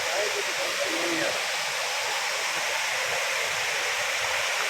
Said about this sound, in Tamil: ஃபால்ஸ் கிட்ட வந்துட்டோம்.